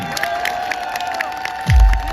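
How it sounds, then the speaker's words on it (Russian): A concert crowd at a city anniversary celebration in a Ukhta culture hall cheers and claps, a steady loud wash of applause and whoops with a deep thump near the end. "Давайте поаплодируем все вместе, как мы умеем."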